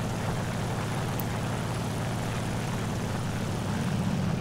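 Airplane engine in a flight combat video game during a loop, a steady dense propeller drone with a low throbbing hum, loud and continuous throughout with no voices.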